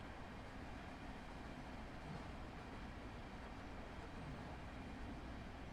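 Steady rumble of a train accelerating on the Chatham Main Line toward Bromley South in Train Simulator 2022, a constant low engine and rail drone with no clear change over the few seconds.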